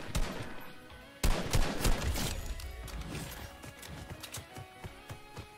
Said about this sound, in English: Oh, he's shooting at the sky base.